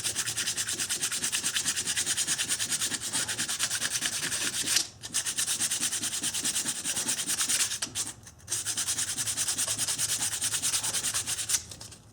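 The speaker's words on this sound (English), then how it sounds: "So just get a little bit of sandpaper." Sandpaper scrubs the flat hub mating surface on a 1990-1997 Honda Accord during a brake job, a loud continuous rapid back-and-forth rasp that pauses briefly twice.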